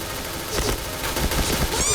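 Bursts of gunfire in a Point Blank first-person shooter game, rapid shots crackling in short clusters at moderate loudness, with faint voices in the background.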